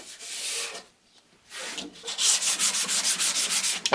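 Short bursts of abrasive rubbing on ash wood corners, a pause, then a quick rhythmic back-and-forth scratching, close and moderately loud.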